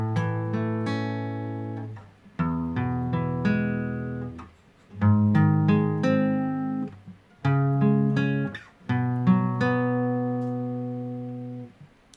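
An electric guitar strums the chorus chords of a song in a steady progression, each ringing out before shifting to the next, loud and clear with brief gaps between phrases.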